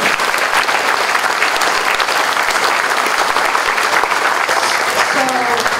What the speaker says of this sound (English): A round of applause for everybody who spoke.